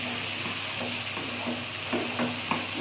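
An egg frying in a pan with cumin powder added, a steady close sizzle with a few soft stirring scrapes and taps, and no talking.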